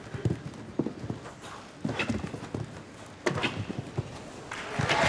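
Hooves of a showjumping horse clip-clop on the arena surface during a round, rhythmic thudding strides in quick bursts, fairly close with a low crowd or ambient background.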